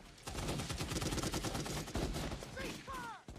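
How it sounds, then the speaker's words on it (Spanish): Dense gunfire from a war film battle scene, a rapid fusillade of rifle and machine-gun shots rattling continuously, with shouted voices and a whistling tone rising near the end. "Los soldados no debían disparar, pero el teniente lo hizo igual."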